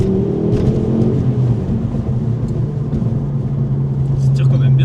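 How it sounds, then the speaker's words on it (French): A Ford Focus ST MK2 accelerates with a deep, steady engine rumble heard from inside the car, loud and continuous, while people talk over it. "On va quand même mettre un petit coup d'accélérateur"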